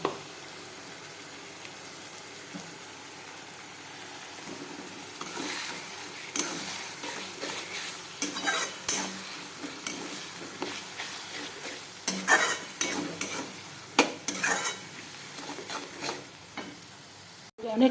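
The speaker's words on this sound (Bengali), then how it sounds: "অনেকক্ষণ এখন হবে, এটা ভালো করে কষবে এখন এটা।" Spices and onion stir-fried for a Bengali katla fish kalia, with a low steady sizzle and, after the first few seconds, repeated clattering scrapes of a spatula in the pan, loud and close, no talk.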